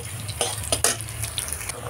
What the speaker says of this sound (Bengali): সয়াবিনটা একটু লাল লাল করে কিন্তু ভাজতে হয় এই তরকারিতে